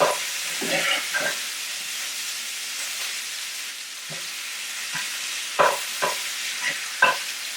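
Breakfast frying in a pan: a steady close sizzle and hiss, with a few louder crackling bursts and scraping stirs scattered through, and no talking.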